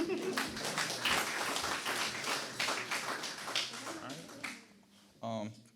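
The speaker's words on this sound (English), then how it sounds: "let's just give another round of applause for the first set of winners" Audience applause for award winners at a 2023 Fairfield arts and culture celebration, a steady patter of clapping hands lasting about five seconds and tapering off before a voice speaks at the end.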